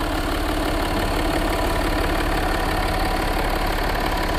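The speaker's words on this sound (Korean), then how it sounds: "엔진 소리 일정하네요" A Jaguar XJ 3.0 diesel idles with the bonnet open, a steady, close, even clatter and hum that keeps an unchanging rhythm throughout.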